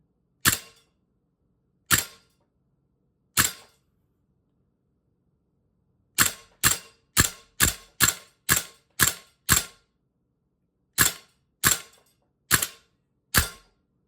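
Viper Tech M733 A2 upper firing sharp, loud shots, first three slow and spaced, then a quick run of eight rapid reports followed by four more evenly spaced, with silence between and no talking.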